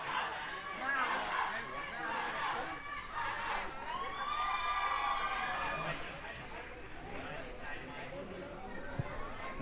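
Home supporters at a Thailand versus Malaysia rugby sevens match cheer and shout in a dense, sustained roar, with high excited voices rising and falling across the whole stretch.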